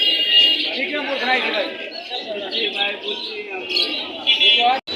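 Racer pigeons crowd a busy pigeon market in Mirpur, Dhaka, their faint calls and coos mixed into steady crowd chatter, with people talking close by throughout.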